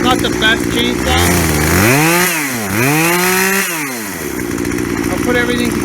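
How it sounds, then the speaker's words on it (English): A repaired chainsaw engine idles roughly, then revs up hard twice in rising and falling sweeps before dropping back to a sputtering idle, loud and close. "It's not the best chainsaw."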